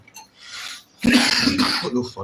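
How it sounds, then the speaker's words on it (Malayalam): A person coughs and clears their throat in a short burst of harsh, close sounds, following a brief quieter stretch, while cooking tapioca with a mackerel fish curry in a home kitchen. "ചുമ പിടിച്ചു"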